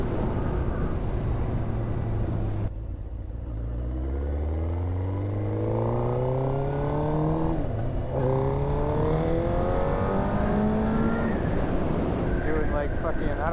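A 2006 Suzuki GSX-R1000 K6 motorcycle engine revs and pulls through rising, falling pitch sweeps as it accelerates, loud and close with wind buffeting the microphone.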